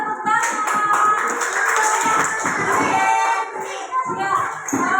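Schoolchildren clapping their hands in a classroom, a burst of loud, close, uneven claps with a few young voices mixed in, tailing off and then briefly picking up again.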